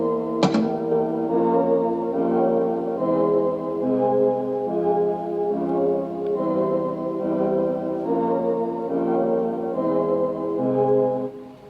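Chopped, octave-lowered chord sample layered with a soft synth pad, sustained chords shifting every second or so in a smooth looping progression, opening with a brief bright transient, full and loud with no voices.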